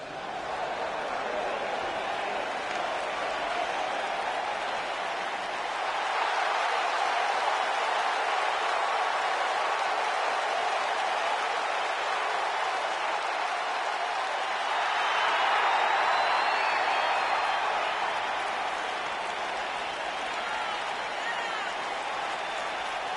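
Crowd noise and applause in a WWE wrestling video game arena during a no-holds-barred championship match, a steady wash of cheering and clapping that swells twice, with commentary voices over it.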